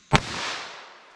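Single sharp, loud gunshot from a .22 LR rifle firing Federal Punch ammunition at fiberboard outdoors, a sudden crack followed by a brief fading echo.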